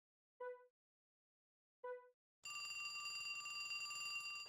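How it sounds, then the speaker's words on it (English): A phone rings in the Trauma Center New Blood video game: two short, clean bell rings with silence between, followed by a sustained tonal game sound. "just like, ring, I forgot to turn the phone off"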